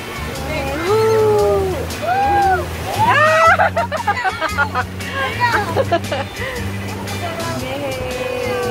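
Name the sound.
waves splashing during a boat ride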